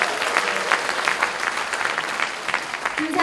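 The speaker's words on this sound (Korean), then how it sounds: "힘찬 박수 부탁드리겠습니다." Crowd applause at a party joint campaign rally for candidates, steady dense clapping from a large audience, sustained and fairly loud throughout with a faint murmur beneath.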